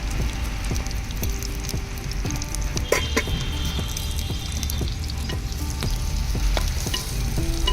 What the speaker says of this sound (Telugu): ఈ ఆనియన్స్ గోల్డెన్ బ్రౌన్ కలర్ వరకు ఫ్రై చేసుకోవాలి.